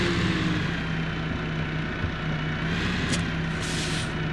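Truck air brake in Farming Simulator 2015, a steady engine hum with a short sharp hiss of released air near the end, heard alone without talk.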